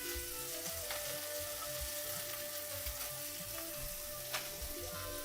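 Steady oil sizzling and crackling in a frying pan, continuous and close, with occasional sharper pops and no voices.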